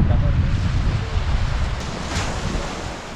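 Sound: wind blowing water at the beach

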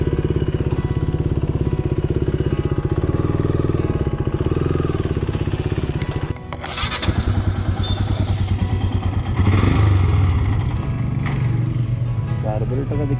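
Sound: Royal Enfield Himalayan motorcycle engine running, carburetor trouble

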